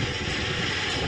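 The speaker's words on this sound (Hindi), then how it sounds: "हवा में उड़ते लड़ाकू विमान" Indian Air Force fighter jets roar overhead during a military display, a loud, dense engine rush filling the whole moment without a break.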